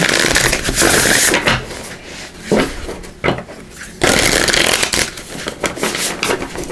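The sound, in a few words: shuffling a deck of oracle cards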